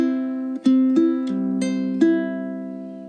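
Ukulele plucked with three fingers in an inside-outside pattern, playing a chord change with a shifting rhythm from a Ma'oz Tzur (Rock of Ages) Hanukkah arrangement, six clear picked attacks ringing close and alone.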